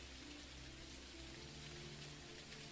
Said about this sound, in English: Because the sound of the rain is still here.